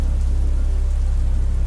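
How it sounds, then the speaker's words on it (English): Heavy rain drums steadily against a window pane, a dense, continuous hiss with a strong low rumble underneath, loud and unbroken. "The rain fell in heavy sheets, drumming against the window pane of Emily's small, dimly lit apartment."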